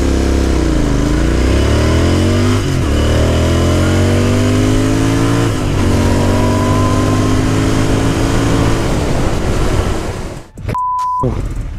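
A Royal Enfield Interceptor 650 twin pulls hard through the gears, rising engine pitch swelling up and dropping at each shift, loud and close with wind rush, before cutting to a brief quiet tail.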